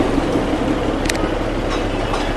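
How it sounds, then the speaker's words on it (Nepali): A toy train on the Darjeeling line passes through Kurseong, a steady rumbling roll with faint clicks of wheels and a brief metallic squeal, close by amid street noise. "ट्रेन आए गाइस यहाँ"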